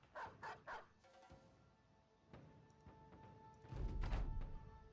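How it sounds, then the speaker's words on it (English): Dogs in the Battle Brothers video game bark in a few quick yaps, then snarl and thump in a louder scuffle near the end, all quiet and with no talk over them. "Now he's going to get torn apart by dogs."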